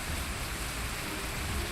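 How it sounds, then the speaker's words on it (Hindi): Torrential rain in Navi Mumbai forms a steady, dense hiss of falling water, heard alone and fairly close with no voices. "मूसलाधार बारिश ने सांता क्रूज का हाल बेहाल कर दिया है"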